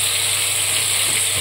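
Potatoes frying in a pan with turmeric and salt give a loud, steady, close sizzle that hisses on without pause and with no voices.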